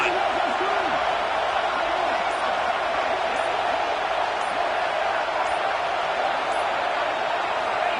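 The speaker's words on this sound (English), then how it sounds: "This crowd even louder now on 2nd down as they try to hold on." A stadium crowd roars in an NCAA college football video game, a loud, dense and continuous cheering wash that stays constant throughout, with faint thuds and a whoop in the background.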